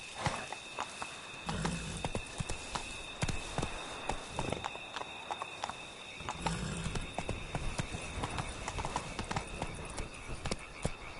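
Roach the horse walks along in The Witcher video game, its hooves making a steady, rhythmic clip-clop throughout. The sound is fairly faint, with a game hum underneath and no talk.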